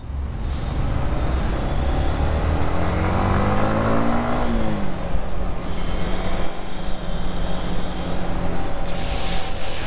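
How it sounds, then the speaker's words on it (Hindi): A car passes close by on a cold night road, its engine loud and revving as it accelerates, with the pitch rising and then falling away. "नई गाड़ी जा रही है।"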